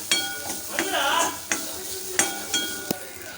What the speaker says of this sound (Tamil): தேங்காய் துருவல் சேர்த்துட்டு நல்லா ஒரு தடவை கலந்து விட்டுக்கலாம்